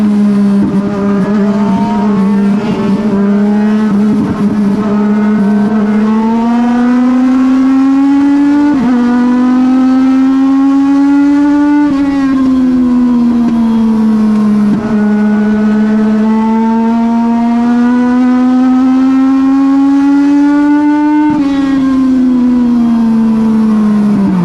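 Legend race cars roar back up to speed on the restart after a caution at Colorado National Speedway. One loud, close engine drones continuously throughout, its pitch climbing and falling as it revs through the gears.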